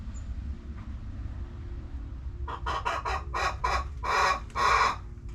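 Chickens cluck around a new nesting box, a run of sharp, loud close calls after a quiet stretch of low barnyard rumble.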